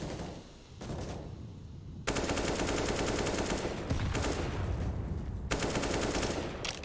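Bursts of AK rifle fire in a Counter-Strike pro match, loud rapid automatic volleys starting around two seconds in and repeating in dense clusters, with sharp individual shots and a brief quieter lead-in.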